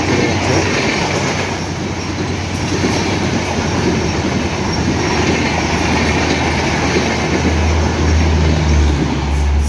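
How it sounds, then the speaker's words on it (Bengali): Maitree Express, a Dhaka-to-Kolkata train hauled by a 66-29 series locomotive, passes through Chatmohar railway station on line 2 without stopping, a loud continuous rumble of wheels and carriages that holds steady throughout with low engine drone. "ঢাকা থেকে ছেড়ে আসা কলকাতাগামী মৈত্রী এক্সপ্রেস এই মুহূর্তে চাটমোহর রেলওয়ে স্টেশনের 2 নম্বর লাইন দিয়ে থ্রু পাস করে চলে যাচ্ছে"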